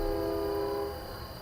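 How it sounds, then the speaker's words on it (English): A train horn sounds in the distance behind a home office, a sustained steady honk that holds and then fades out over a low background rumble. "you can hear the frickin' train in the background."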